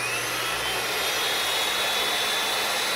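A DeWalt DW705 miter saw motor runs at full speed with a loud, steady high-pitched whine and roar, constant throughout without any break.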